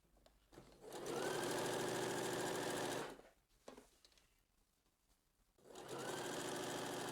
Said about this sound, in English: Make sure that your presser foot sits directly on that edge,